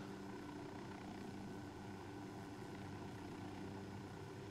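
A steady helicopter drone in the video game Ghost Recon Wildlands hums without pause, low and even, a constant mechanical whir with no talking.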